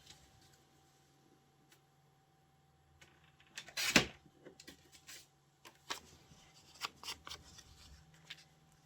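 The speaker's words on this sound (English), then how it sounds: "So I'm going to cut this down just a little bit, and then that way the S will show as well." Paper is cut down by hand for a crossword puzzle collage, one sharp close snip followed by scattered soft rustles and small ticks of handling in a quiet room.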